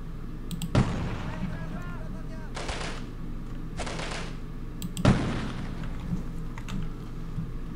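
Semi-automatic Light 50 heavy rifle in the Delta Force video game fires several sharp, loud shots at uneven intervals, each with a short echoing tail, over a steady low ambient hum.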